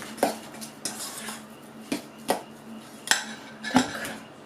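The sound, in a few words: crumbling cheese with a fork in a bowl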